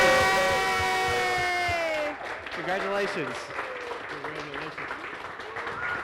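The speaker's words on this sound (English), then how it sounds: "We'll wait for the applause to die down." A crowd at a grant competition awards event applauds and cheers loudly, with a whoop over the clapping, before it thins out and a voice speaks over the fading applause.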